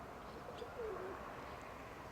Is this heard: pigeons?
yes